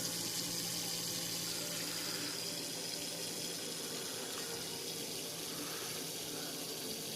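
Asetek liquid cooler pump running, coolant with micro bubbles flowing through the tubing as a steady, faint watery hiss and trickle that continues evenly throughout.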